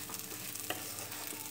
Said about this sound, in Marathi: मी आता व्यवस्थित ह्याला परतून घेते